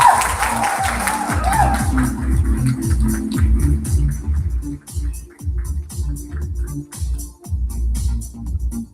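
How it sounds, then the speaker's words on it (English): Audience at a company annual day celebration clapping, sustained applause from a crowded hall that swells and then tapers in uneven waves. "Big round of applause."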